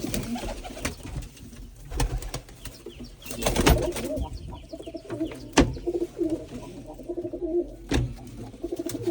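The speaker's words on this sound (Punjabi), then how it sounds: "ਵੱਡੀ ਕਬੂਤਰੀ" Pigeons coo in low, throaty bursts close by, mixed with sharp clatters and occasional wing flaps, the sounds coming in irregular bursts at modest volume.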